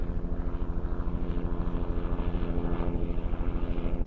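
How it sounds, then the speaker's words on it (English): A helicopter flies over Prospect Park in Brooklyn, its rotor beating in a steady, rapid rhythmic thump that holds loud and constant throughout, with no talking. "I'm gonna need this helicopter to go somewhere."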